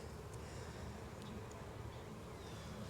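Honey bees hum steadily around an opened hive while a beekeeper inspects brood frames in Jacksonville, Florida, a continuous close, even buzz with faint scattered higher whines and no talk.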